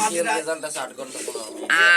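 Pigeons coo softly nearby, low rounded calls repeating over a few seconds, with a brief louder sound at the end.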